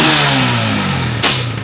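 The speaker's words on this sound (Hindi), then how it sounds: "ये इस तरीके से बैक फायर मारता है" A CG 125cc motorcycle engine running loudly up close, revving steadily before a sharp backfire pop near the end, then settling back.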